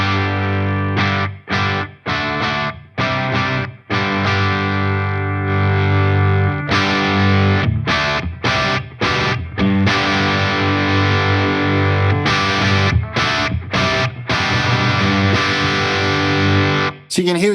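An electric guitar played through a Friedman IR-X twin-channel high-voltage valve preamp with the gain pushed high, a thick saturated distorted tone with sustained chords broken by short stops and restarts, loud and close.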